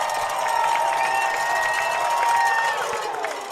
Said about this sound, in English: Crowd's getting up in it now.